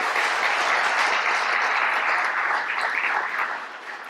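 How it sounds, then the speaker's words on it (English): Audience applause for County Executive Bob Culver fills a Salisbury City Council organization meeting: steady, dense clapping from many hands that holds level for about three seconds and then begins to taper off. "Please give him a round of applause"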